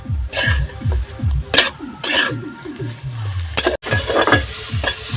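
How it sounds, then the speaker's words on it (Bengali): Bottle gourd leaves with tomato, salt and green chillies fry in a hot kadai, giving a soft sizzle and scraping stirs. Voices sound nearby and in the background throughout. "ভালো করে নেড়েচেড়ে আমি এগুলো ভেজে নেব"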